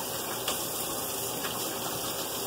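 A tap runs steadily while hands are washed, a soft continuous gush of water at moderate distance with no talk.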